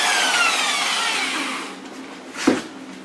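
A high-speed car buffer polisher whirs at a held-down slow speed, a steady close motor drone that fades after a second and a half, followed by a brief bump near the end.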